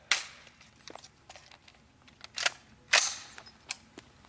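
AR-15 rifle fired into a bucket, heard as a few sharp, moderately loud cracks spread over a few seconds against a low background hiss.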